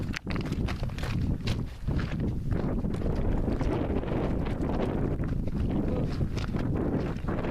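Hot desert wind blows across the open, arid ground at Kata Tjuta in central Australia, making a steady, loud rumbling buffet close to the microphone that continues without a break.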